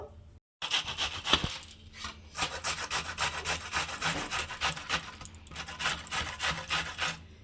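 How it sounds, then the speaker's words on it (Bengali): Peeled radish grated on a handheld grater, a steady run of close, rasping scrapes in quick rhythm after a brief silent gap at the start, with no voices. "তো ঘষনিতে আমি এখন মূলোটাকে ঘষে নেব"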